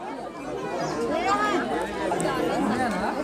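A dense crowd of devotees gathered for darshan of Sheetla Mata in Ganeshpur chatters continuously, many overlapping voices blending into a close, busy murmur.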